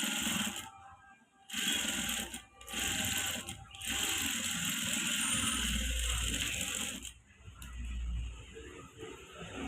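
A sewing machine edge-stitches a blouse in several bursts of rapid mechanical whirring, separated by short pauses, close and fairly loud.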